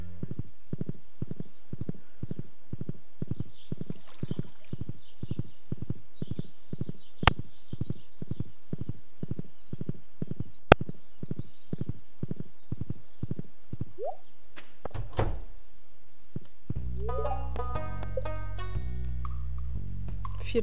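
Horse hooves in the farming game Stardew Valley clip-clop in a steady, even rhythm for many beats, then stop before a short burst of bright game music.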